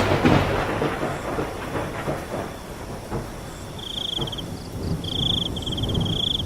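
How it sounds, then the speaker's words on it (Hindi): Heavy rain pours in a dense, steady hiss during a thunderstorm, with low rumbles of thunder rolling through and a high thin tone appearing near the end. "बाहर तेज तेज बारिश और बिजली कड़क रही होती है।"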